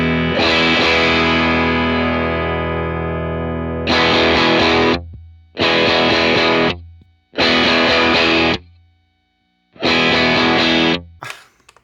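Distorted electric guitar through a Matchless C-30 amp or a Line 6 Helix modeler: one long ringing chord fades out, then four loud sustained chords are each cut off with silence between them, ending in a brief scrape.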